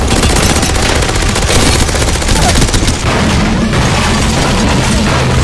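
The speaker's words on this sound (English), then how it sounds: "The machine gun." Heavy, continuous machine gun fire in Apex Legends, a loud unbroken rattle of rapid shots with booming impacts that barely lets up across the whole stretch.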